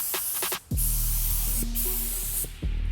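Water-based tire dressing sprayed from a sprayer while detailing a dirty truck: a few short bursts, then long steady hissing sprays broken by brief pauses, close to the microphone.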